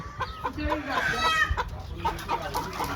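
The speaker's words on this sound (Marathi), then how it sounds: "गावरण कोंबडा कोंबडी हे बघा आहे" Free-range village rooster and hens cluck in a steady run of short calls close by, some louder bursts among them, with someone talking over part of it.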